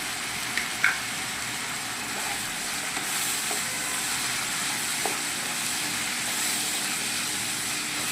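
Potatoes and onions fry with turmeric, chili powder and salt in a pan, giving a steady soft sizzle and hiss with a few faint clinks from stirring. It is fairly quiet and close.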